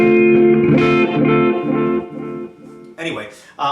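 An instrument played through a Roland RE-150 Space Echo tape echo preamp gives a warm, saturated, distorted tone in repeated sustained chords, with a brighter, choppier flourish near the end.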